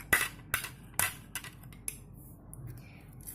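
A spoon clinks and scrapes against a pan in several sharp, irregular strokes while a spiced sweet corn mixture is stirred, close and fairly loud.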